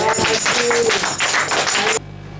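Church congregation applauding during an evangelical Sunday service, dense sustained clapping filling the room for about two seconds before cutting off abruptly.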